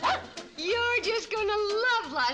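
A dog barks and whimpers in a 1960s television comedy scene. The calls come in a close, continuous string of rising and falling yelps with voices mixed in.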